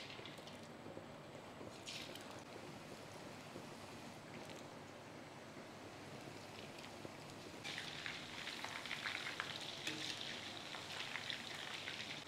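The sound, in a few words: chicken deep frying in oil on medium-low flame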